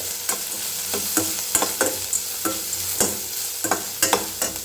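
Chopped coconut is stir-fried in a pan, a spatula scraping and tossing in a quick, uneven rhythm of sharp strokes over a soft sizzle, close and clear with no talking.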